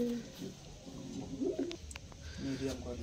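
Fancy pigeons in a breeding loft: soft, fairly faint cooing calls repeat several times over a low background hum, close by and unhurried.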